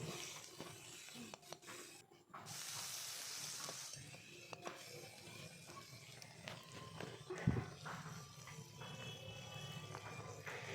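Onion, ginger, garlic and chopped tomato fry together in a pan while being stirred, a steady low sizzle with scattered scraping and knocking of the spoon, one louder clack partway through; no speech.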